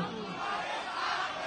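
A political rally crowd chants slogans together in a brief, dense roar of many voices that stays fairly far off and steady.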